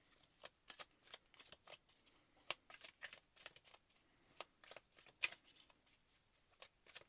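Tarot cards being shuffled by hand, soft repeated riffling and slapping of the deck in a steady, uneven rhythm, close and faint with no talking.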